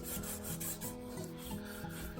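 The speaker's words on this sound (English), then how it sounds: "A little bit more sanding across the tops." Sandpaper rubs across the tops of a stabilized, spiral-carved wooden piece in quick, repeated strokes, a close, rasping scratch that rises and falls with each pass and continues without pause.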